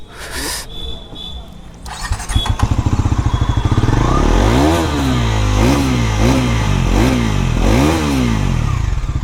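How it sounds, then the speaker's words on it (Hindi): A Bajaj Pulsar NS400Z motorcycle barks into life, then its exhaust note rises and falls through several sharp revs over a steady idle, loud and close, with no talk. "उससे पहले मैं आपको एग्जॉस्ट सुना देता हूँ गाड़ी का, कि एग्जॉस्ट नोट इसका कैसा है।"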